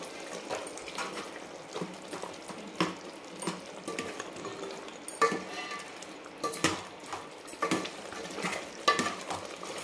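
A spoon stirs and scrapes through mutton curry with ground onion paste in a pan, giving repeated metallic scrapes and clatters over a faint sizzle, with no voices.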